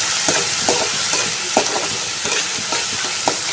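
Onions sauté in hot oil on their own, a loud steady sizzle with a regular rhythm of scraping spatula strokes roughly every half second.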